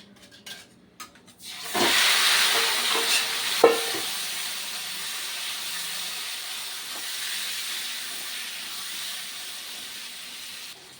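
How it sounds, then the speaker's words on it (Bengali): Meat fries in a pan with a soft, steady sizzle that starts after a couple of quiet clinks, with a sharper clatter partway through, moderately close and without talk. "খালি আগে মাংসটা ভাজবো ভালো করে"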